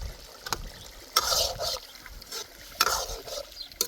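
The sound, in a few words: meat being browned and stirred in a pot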